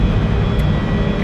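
A De Havilland Dash 8 Q400 turboprop roars at takeoff in the X-Plane 11 flight simulator, a loud, steady engine drone filling the brief moment.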